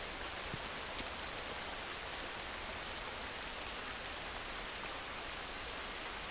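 Steady hiss of rain in the video game The Last of Us, dense and even throughout with no voices, a constant wash of falling water.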